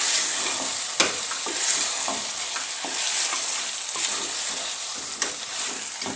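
Capsicum frying and being stirred in a pan for a Kenyan stew: a continuous bright sizzle close by, broken by a few sharp utensil scrapes against the pan, with no voices.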